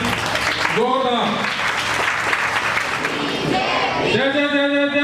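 Loud crowd applause and cheering at an Ambedkar Jayanti community gathering, steady clapping throughout with voices shouting over it and chanting rising near the end.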